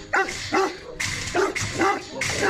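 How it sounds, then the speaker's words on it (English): A large Tosa fighting dog barks loudly and close, a run of five deep, forceful barks at a steady rhythm with little pause between them. "A Tosa is a fighting dog that weighs 220 pounds"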